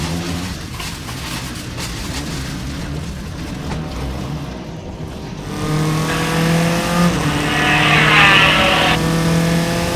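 V8-powered single-seater race cars accelerate down the straight at Mid-Ohio during an SCCA race, engines droning close and loud, then a sharper, higher-revving car rises in pitch as it pulls away, with no talk.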